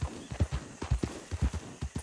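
Hooves clip-clopping in a steady, rhythmic gait, a horse walking nearby on a hard surface, with faint background noise.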